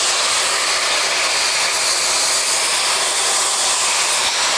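Water poured into a hot pan of frying spices, including a dried red chilli, for a fish kalia, giving a loud, steady, close sizzling hiss that holds throughout with no speech.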